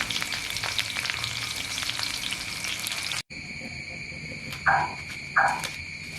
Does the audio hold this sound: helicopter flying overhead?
no